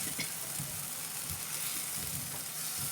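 Masala fish sizzling steadily in a hot pan just after being flipped, a close, even frying hiss with small crackles and faint stirring, no talk.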